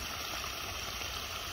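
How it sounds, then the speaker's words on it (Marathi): High-pressure hose spraying water outdoors among friends, a steady dense hiss and rush with no break, close and fairly loud, no voices over it. "पाण्याला प्रेशर खूप आहे गाईज"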